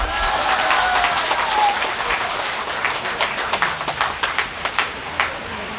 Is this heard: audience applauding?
yes